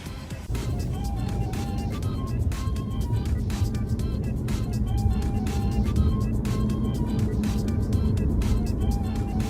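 A BMW 5 Series car on a test drive after ABS and traction control warning repairs gives a steady, continuous engine and road rumble that stays loud and even throughout.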